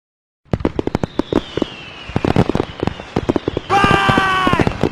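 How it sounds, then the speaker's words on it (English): Rapid crackling bursts and pops of Fourth of July fireworks going off close by, ending in a dense, sustained fizzing crackle with whistling tones. "Incoming fireworks raining down."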